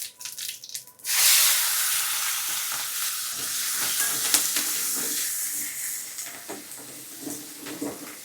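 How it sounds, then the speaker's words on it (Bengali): Cumin seeds, chopped onion and chili hit hot oil in a pan with a sudden loud sizzle that settles into steady close frying, punctuated by repeated stirring scrapes and taps. "দিয়ে দিচ্ছি হাফ চামচ মতো জিরে ফোড়ন আর এর সাথে দিয়ে দেব কেটে রাখা পেঁয়াজ এবং মরিচ"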